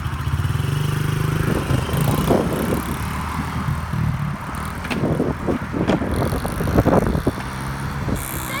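A motorcycle pulls away slowly in first gear, its engine a steady low rumble throughout, with louder irregular revving and mechanical clatter from about two seconds onward; no talking.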